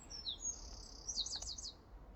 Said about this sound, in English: In fact, both wren and dunnock singing around the back at the moment.